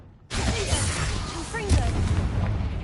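A disarming spell cast in the video game Hogwarts Legacy, bursting in suddenly after a quiet start as a loud, dense magical blast with crackling, booming game effects and a further impact swell midway.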